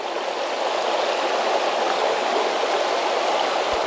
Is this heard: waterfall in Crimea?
yes